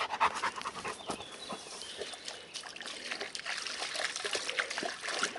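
A dog pants steadily up close beside a small stream while water trickles and splashes continuously in the background.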